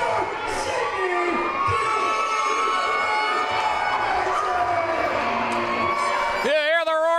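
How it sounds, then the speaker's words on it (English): Arena crowd at a professional wrestling event in North Sydney roars and cheers continuously for a local wrestler's ring entrance, loud and sustained with whoops and yells, with a tonal entrance sound rising near the end. "You hear the roar of the crowd for Duke McIsaac"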